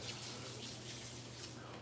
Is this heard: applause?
no